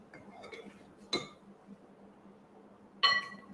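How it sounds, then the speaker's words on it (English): Paddle attachment removed from a KitchenAid stand mixer, two sharp metallic clinks about two seconds apart over a quiet kitchen background. "I'm just going to remove the paddle attachment."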